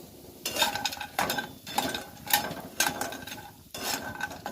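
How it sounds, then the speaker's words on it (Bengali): Bori lentil dumplings fry in oil in a pan while a utensil scrapes and stirs in repeated bursts, metal clinks over a low, steady frying hiss. "শুকনো লঙ্কাটা ভেজে নেব আর বড়িটা ভেজে নেব।"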